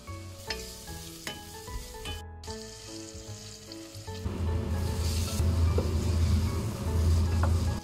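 Onions and red pepper fry in a pan for homemade chili beans, a steady close sizzle with stirring clatter that grows louder and denser in the second half, no voices.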